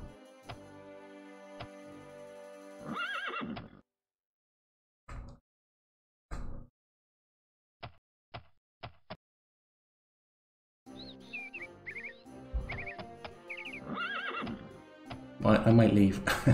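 Horse neighing in the video game Daggerfall Unity, a couple of close, clear whinnies at the start and end separated by silence and brief clicks.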